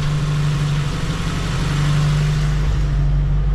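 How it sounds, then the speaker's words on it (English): Geo Tracker engine running with a newly installed exhaust header, a steady low idling rumble from the exhaust with a strong droning hum, close and loud, with no talk over it. "You can kind of hear the exhaust note. It does sound different."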